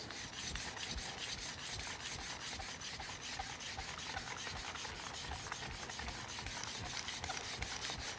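A metal file rasps steadily across the edge of a woodworking card scraper held in a sharpening jig, with continuous rhythmic strokes that are close and fairly loud, and no talking.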